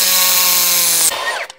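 A D-handle impact wrench spins a fastener out with a loud, steady whine. The sound breaks off abruptly after about a second and leaves a short rattling tail.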